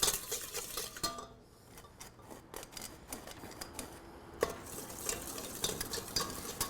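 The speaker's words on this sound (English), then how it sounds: "And I'll just stir it as I sift it." Flour being stirred into thin crepe batter while it is sifted in with salt, giving a steady run of soft scraping and light clinking taps against the bowl, close and moderately quiet with no talk.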